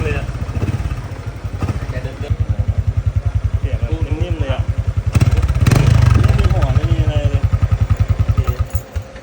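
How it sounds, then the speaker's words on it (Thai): Home-used Honda Wave motorcycle with a windshield and blue gauges, its engine running at a fast, even idle with a brief rev partway through, while someone talks over it. "เสียงเครื่องแบบนี่"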